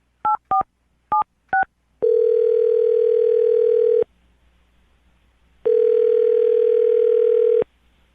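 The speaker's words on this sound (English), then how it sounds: "I'm going to dial the phone number right now and get him on the phone." A landline phone dials a number: four short touch-tone beeps come first, then two long steady tones about two seconds each with a gap between them, clean and close with no talking.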